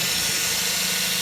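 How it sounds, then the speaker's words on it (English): A steady, high-pitched mechanical whine of a power drill boring a hole in a wooden cigar box for a guitar build, running continuously, close and fairly loud, with no voices. "Next, we drill a hole from the potentiometer"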